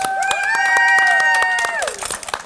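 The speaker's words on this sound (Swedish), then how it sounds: "Ja, en applåd Manfred, bra jobbat." A small audience claps in sparse, scattered bursts for a contestant at a cooking competition semifinal, under a loud sustained musical chord that slides downward and fades near the end.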